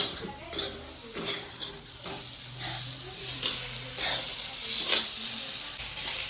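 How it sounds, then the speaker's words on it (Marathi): Grated corn is stirred in a hot pan, with repeated scraping strokes over a steady sizzle. "जरा एक दोन मिनटं फक्त त्याला सारखं हलवायचं"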